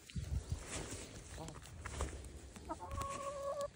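Chickens cluck faintly in an outdoor setting, with soft scattered clucks and a brief higher call near the end, mixed with rustling and low background noise; a person talks quietly nearby.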